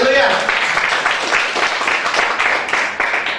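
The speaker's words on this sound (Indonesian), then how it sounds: "Tepuk tangan dulu, haleluya" Church worshippers clap together during a service, a lively patter of many hands with voices calling out over it and the clapping gradually easing.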